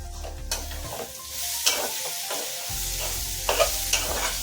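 A curry with fresh coriander leaves and grated coconut sizzles in a pan while a spoon stirs it in several scraping strokes, with soft clinks against the metal and a brief lull midway.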